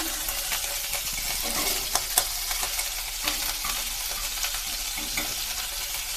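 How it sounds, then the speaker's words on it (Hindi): Butter sizzles in a hot pan before bread is fried, a steady close crackling hiss with occasional pops and light clinks, and no voice over it. "डालते हैं बटर दूसरी ब्रेड के लिए"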